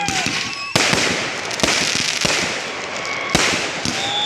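Rapid bursts from a 120-shot fireworks cake, sharp cracking reports firing repeatedly in quick succession, with several louder bangs standing out against a constant crackling roar; distant voices chatter faintly underneath.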